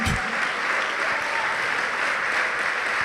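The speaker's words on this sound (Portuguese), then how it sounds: "Vamos aplaudir o Senhor" A church congregation claps for the Lord during a sermon, a full, even burst of applause from many hands that holds steady without a break.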